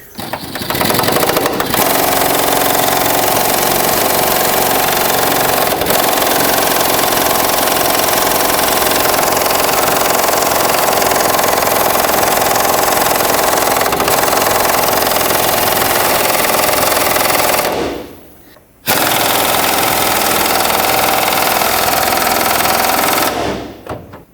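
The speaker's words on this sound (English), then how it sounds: "I'm going to put my air gun in here. We'll see if some vibrations will break this thing free." A pneumatic impact gun hammers continuously on a seized leaf spring shackle bolt of a Chevrolet Express van, loud and close with a rapid rattling drone, stopping briefly near the end before starting again.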